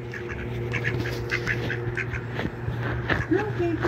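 Duck quacking repeatedly in short bursts close by, with someone talking over and between the calls.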